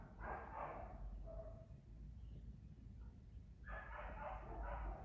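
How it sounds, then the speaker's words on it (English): A dog gives two bursts of faint, high-pitched barking from some distance away, separated by a quieter pause, over low background noise. "she is a high-pitched barker. I'm sure y'all can hear her."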